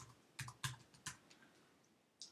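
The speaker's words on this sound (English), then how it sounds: "I'm typing right now, but Thomas is going to type a bit later" A computer keyboard gives a handful of soft, separate keystrokes in a quiet room, a quick cluster followed by a pause and one last tap.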